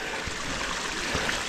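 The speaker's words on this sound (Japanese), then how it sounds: "お、これはね、有名な、白滝って言うんですよ。" Water of the Shirataki waterfall on Mount Hokyo (461 m) pours in a steady, hissing rush, a brief continuous flow with no other sounds standing out.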